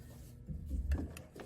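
Sewing machine running in a short, steady low whir while stitching stretchy black gauze fabric on wide-leg pants, fairly quiet and close, with no talk.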